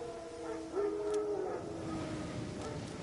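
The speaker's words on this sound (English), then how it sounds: "Wolves? No. Wild dog." A wild dog howls in The Witcher 3, a single rising, wavering cry lasting under a second that stands out over a low ambient game backdrop, with no talk.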